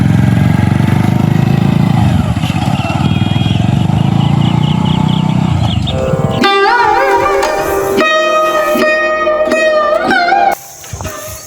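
A motorcycle engine rumbles loud and steady for about six seconds before music takes over.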